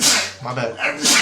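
A single sharp sneeze bursts out at the start, with a second short burst at the end, and people talk briefly in between.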